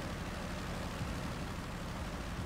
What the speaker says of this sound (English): The engine sounds feel a little bit repetitive